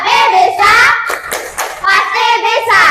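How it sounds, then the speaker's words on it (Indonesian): Schoolchildren in an elementary classroom clap in rhythmic bursts during a group clapping chant, with children's voices chanting along over the hand claps. "Sekarang tepuk semangat biar tambah semangat ya."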